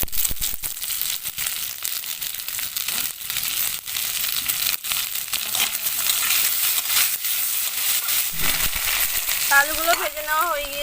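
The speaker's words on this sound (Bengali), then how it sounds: "সামান্য একটু নুন আর হলুদ দিয়ে আলুটাকে ভেজে নেব।" Potato pieces frying in oil with a little salt and turmeric for a vegetarian festive thali, a dense continuous sizzle with crinkly stirring scrapes, close by, and a brief tonal sound near the end.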